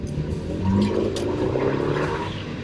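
A Ford Focus engine held at a steady, moderate rev while the driver works through the gears, giving a close, continuous engine drone that swells slightly and then holds level.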